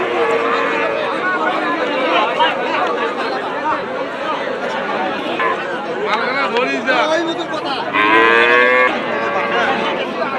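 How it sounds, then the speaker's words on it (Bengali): Calves moo repeatedly and loudly at a busy cattle market in Nilphamari, with several animals calling over one another against a constant background of crowd chatter. "নানা জাতের বাসুর দিয়ে একদম ভরপুর হাট"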